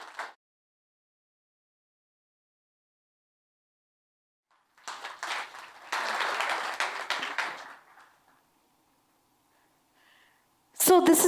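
Audience applause welcoming the dancer Manjari Chaturvedi on stage, a burst of clapping of a few seconds that swells and then fades, following a quiet pause.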